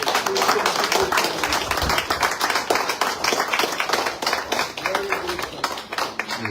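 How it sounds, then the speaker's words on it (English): An audience at a panel discussion gives a round of applause for a speaker, brisk clapping from a modest crowd that holds steady and slowly thins. "a round of applause for Mr. Fivry"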